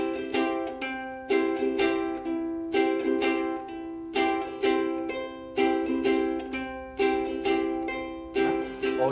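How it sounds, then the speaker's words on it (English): A ukulele strummed in a repeating down, up, down pattern. Bright chords ring close and steady in an even rhythm, with no voice. "we can strum down, up, down, and that would sound like this"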